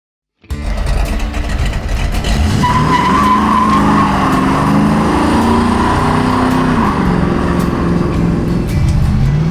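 A 1968 Chevrolet Chevelle with modern suspension and a 700R4 transmission with race shifter starts up hard from silence. Its loud engine roar runs continuously and its tires squeal through the acceleration.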